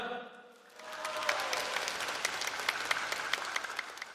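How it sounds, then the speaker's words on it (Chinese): A hall audience at the MG4X car launch event breaks into steady applause after a moment of quiet, moderately distant clapping with scattered sharper claps sustained to the end. "让我们为这位大牌设计师也来一点掌声"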